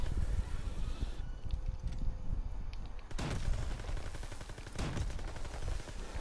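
Rapid gunfire in a WW2 zombies video game, sustained automatic bursts with a few sharper louder shots, dense and continuous over a noisy game background without talk.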